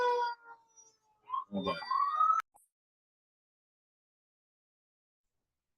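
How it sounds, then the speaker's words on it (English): A passing ambulance siren sounds briefly outdoors as a short rising and falling wail, moderately loud then cutting off abruptly, with someone speaking just before it. "That was an ambulance driving by."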